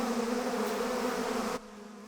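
A swarm of killer bees buzzes in a loud, continuous drone with a steady hum, then drops abruptly to a quieter buzz near the end.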